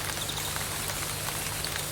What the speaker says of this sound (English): The rain came down harder.